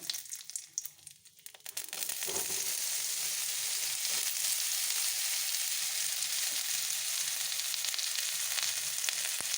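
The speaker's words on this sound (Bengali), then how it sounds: "এখানে ঘি দিয়ে দিলাম এখানে দুটো তিনটে তেজপাতা দিয়ে দিলাম" Two or three bay leaves hit hot ghee for rice pudding. A few clattering handling sounds give way to a loud, steady sizzle that holds evenly and close, with no voices.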